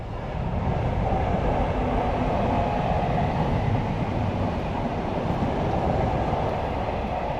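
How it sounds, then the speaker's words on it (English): A train rolls across a railway bridge, a steady, loud low rumble of wagons that holds evenly from start to finish with no voices over it. "there's a train on it as I speak now"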